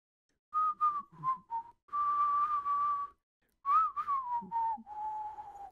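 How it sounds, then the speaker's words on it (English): A person whistles a slow, wavering melody in two phrases, close and clear, with short pauses between notes. "That's me trying to whistle the freaking theme."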